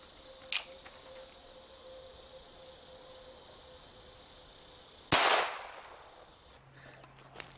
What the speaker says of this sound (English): let's start out with the .22 long rifle out of this P22.